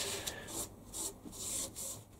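Rhythmic back-and-forth scrubbing of a grimy metal vise rescued from a skip with a Scotch-Brite pot scourer, steady close rasping strokes about every half second, no voices.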